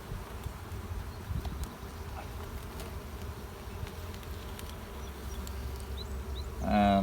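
Honeybees hum steadily on a brood frame inside an opened hive, a dense, continuous low drone of many insects close by, with a brief louder rise near the end.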